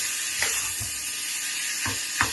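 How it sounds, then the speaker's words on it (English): Lasagne sauce sizzles in a pan as it is stirred, a continuous hissing fry broken by a few soft scraping strokes of the spoon along the bottom. "This will stick now to the bottom, so you just have to keep stirring"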